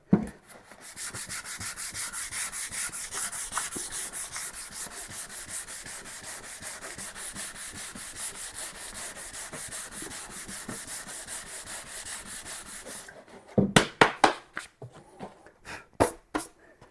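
Abrasive sanding of a car headlight lens to strip yellow haze, a steady close scrubbing rasp running for about thirteen seconds before stopping, followed by a few separate sharp rubbing strokes and knocks.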